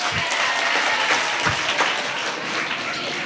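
An audience at a religious Jubilee gathering in a church claps together, a dense steady patter of many hands lasting a few seconds, fairly close and continuous without talk.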